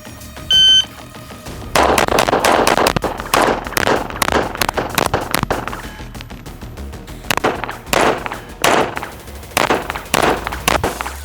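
A TTI Combat Master pistol fired in a rapid string of loud, sharp shots at a range, preceded by a short electronic shot-timer beep, with brief pauses between bursts.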